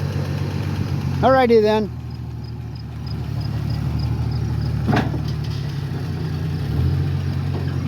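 A vehicle engine idles with a steady low rumble throughout, while a voice briefly talks over it and a single sharp knock sounds partway through.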